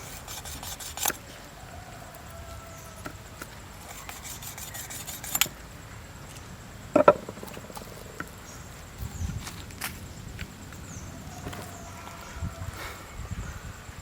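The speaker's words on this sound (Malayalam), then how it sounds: "അപ്പോൾ നമുക്ക് ഇതിനെ കട്ട് ചെയ്തെടുക്കാം." Cooked hanging chicken is cut with a quiet, intermittent scraping and rubbing, with occasional soft knocks at close range and no speech.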